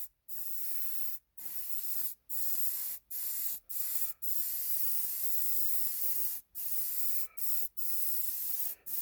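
A Selphy airbrush sprays Scale 75 paint in a run of short, sharp hissing bursts separated by brief silent gaps, close and fairly quiet.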